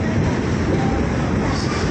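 Steady rumbling roar of the Brahmaputra Mail passenger train running, heard from inside a carriage as a constant, close, even wash of wheel and track noise with no pauses.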